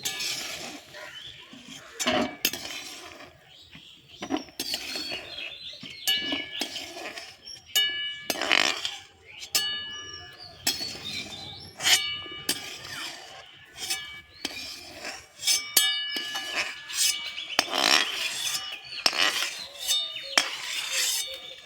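Boiled figs and kochu lati (taro stolons) being strained through a metal strainer in a home kitchen: repeated light metallic clinks and scrapes of utensil on strainer and pot, coming in irregular bursts, close by, with no talking.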